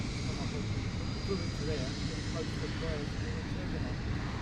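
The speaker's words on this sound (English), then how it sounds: "Little Bombardier Challenger 605 coming in as well" A Bombardier Challenger 605 business jet coming in to land at London Luton Airport, a steady broadband engine roar and rush heard at some distance, with faint voices over it.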